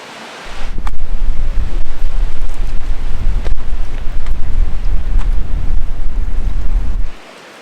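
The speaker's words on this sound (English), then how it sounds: "There's some nice gusts coming through, but it's not like crazy, crazy wind yet." A steady, loud roar of wind gusts buffets the microphone for about seven seconds during a desert wind storm at a lakeside camp, with no voices.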